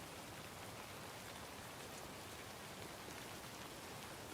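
Steady, faint rainfall in the video game Alan Wake 2, an even hiss of drops pattering continuously with no voices.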